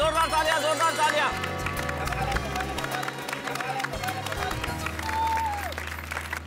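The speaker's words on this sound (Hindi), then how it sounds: "एक बार जोरदार तालियां, जोरदार तालियां, जोरदार तालियां।" Audience applause and cheering at a children's day stage performance in a sitcom, clapping mixed with loud music and crowd noise throughout.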